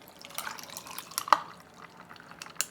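Green juice is poured into a cup of fresh freezer ice, with soft trickling and dripping, a few light clinks and splashes, close and fairly quiet.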